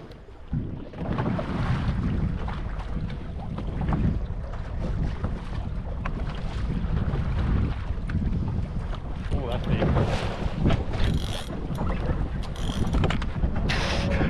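Trailer boat driving out over open water in the remote Coral Sea: a loud, continuous engine and hull roar with rushing water and gusting wind noise across the microphone, steady throughout.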